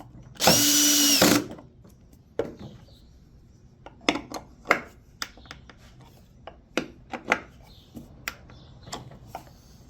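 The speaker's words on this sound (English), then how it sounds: "I want to drill the holes and put the legs on" A power drill whirs loudly for about a second drilling holes in walnut wood, followed by a series of scattered knocks, scrapes and taps from handling tools and wood.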